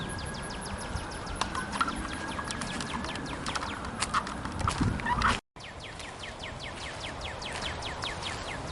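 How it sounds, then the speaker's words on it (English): Wild birds calling throughout Duke Gardens in Durham, North Carolina, with repeated gobbling, turkey-like calls and scattered chirps over steady outdoor ambience, broken by one brief dropout. "you can hear all the birds in the background."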